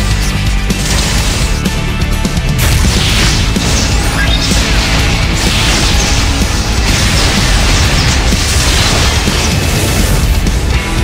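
Loud, dense battle noise from the game Tree of Savior with heavy booming cannon fire and mechanical clanking, continuous throughout with no pauses.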